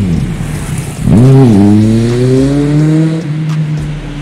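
The engine of a Kawasaki Ninja Z900 motorcycle revs up sharply, then holds a loud rising drone close by for several seconds with no talking.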